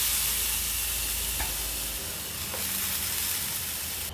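Grated coconut fries in a pan for crab sukka, giving a continuous close sizzle with a couple of soft stirring scrapes.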